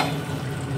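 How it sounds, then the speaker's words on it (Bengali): A brief, steady sizzle of paneer, coated in salt and turmeric, frying in hot oil, with an even hissing texture throughout. "এবার পনিরটা ভেজে নেব।"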